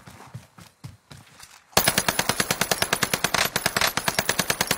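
Rapid automatic gunfire from a video game weapon with heavy recoil bursts out after a few quieter soft thumps, a steady loud string of shots with no voice over it.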